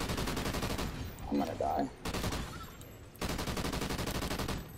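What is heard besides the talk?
M27 IAR machine gun firing in Call of Duty Ghosts video game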